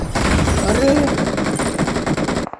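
Rapid automatic gunfire in a video game, a dense, continuous burst of loud, close shots that rattles on without pause, then cuts off abruptly.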